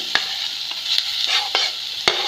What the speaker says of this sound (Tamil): கடலை எண்ணெய் போட்டு பிரிஞ்சி இலையும் ஒரு பட்டையும் போட்டிருக்கோம் மிச்சிருக்க பன்னீரை ஆட் பண்ணிக்கலாம்